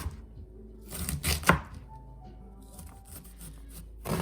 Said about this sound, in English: We're gonna cut the rest of this kind of like noodles, thin strips like this.